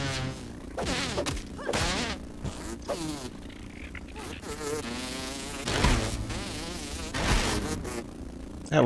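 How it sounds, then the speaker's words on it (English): Insects in the video game Grounded buzz close by, a mosquito among them, with a fluttering, wavering whine that rises and falls over a bed of game sound, broken by a few sharp swats and thwacks. "Oh, we got a mosquito."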